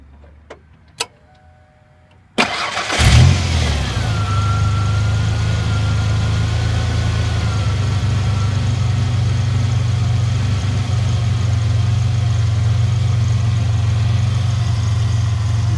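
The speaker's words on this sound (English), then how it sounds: "I'll start it up and let you hear it run" A 1994 Ford Ranger engine catches after a couple of faint clicks and settles into a steady, smooth idle that runs on loudly and evenly, with no talking.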